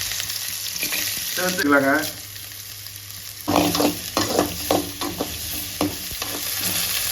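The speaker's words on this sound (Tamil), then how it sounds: "போட்டு நல்லா வதக்கி எடுக்கலாங்க" Onions and cumin seeds sauté in hot oil for a steady sizzle with scraping stirs, while a voice talks over the cooking partway through.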